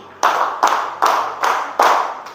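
A room of people clapping together in a counted ice-breaker game, five strong unison claps at a steady beat, close and loud, each ringing briefly before the next.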